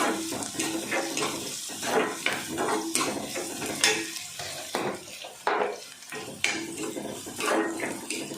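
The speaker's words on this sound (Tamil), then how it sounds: "அதில் வந்து கொஞ்சம் கருவேப்பிலை சேர்த்துக்கிறோங்க அதில் இது நல்லா வதங்கட்டும்" Curry leaves sauté with tomato-based egg gravy in a pan, a spoon scraping and clinking against the metal while the mixture sizzles steadily, close and continuous with no talking.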